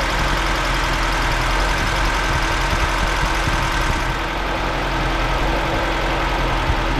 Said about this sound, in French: notre moteur régule bien